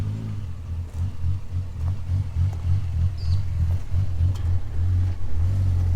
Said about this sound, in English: How good do ghost cams sound?